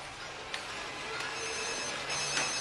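A telephone rings in a Hollywood movie scene, a faint electronic trill repeating in short bursts over a hissy background, quiet and steady throughout with no speech.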